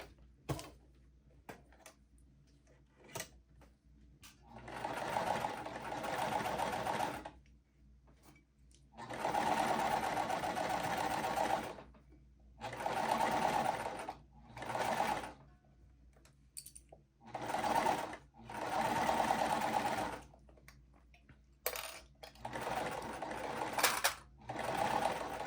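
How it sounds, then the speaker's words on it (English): A sewing machine stitches quilt pieces together in repeated bursts of running, each lasting a few seconds and separated by quiet pauses and small clicks. "Okay, and we'll sew this along there."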